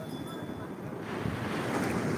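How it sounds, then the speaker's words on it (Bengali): Back-to-back waves break at a brimming high tide, the rushing surf swelling noticeably louder midway and holding a heavy, wind-blown roar to the end. "আবার একটা ঢেউ ব্যাক টু ব্যাক আজকে ব্যাক টু ব্যাক পুরো ভরা জোয়ারে"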